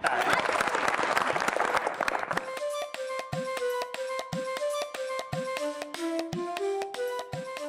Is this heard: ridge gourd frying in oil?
no